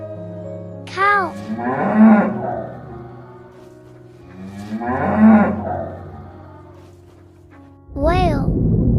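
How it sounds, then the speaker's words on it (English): A cow moos loudly and close, two long drawn-out calls separated by a pause, with a bark-like yelp and a voice briefly heard around them. "Cow."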